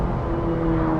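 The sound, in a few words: Ferrari 458 Spider with iPE exhaust downshifting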